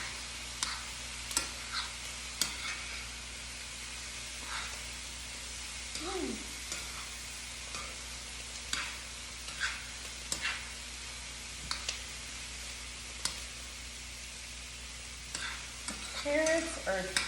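Cauliflower rice frying in a pan, a quiet, steady sizzle with soft stirring scrapes and small ticks scattered through, alone with no talk.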